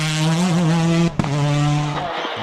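A borrowed Ford Escort WRC rally car on a Northern Ireland rally stage, its engine loud and close with a steady high-revving note, a sharp gearshift break partway through, then revving on again.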